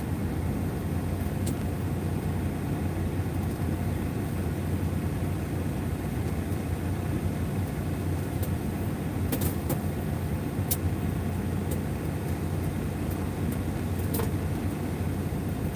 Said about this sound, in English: Truck is running, sounds good.